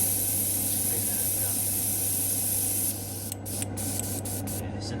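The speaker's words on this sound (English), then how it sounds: "So you spray it down." Clear coat sprayed from a can onto a 1/24 Aoshima Range Rover model kit, a steady close hiss lasting several seconds, then broken into short bursts near the end.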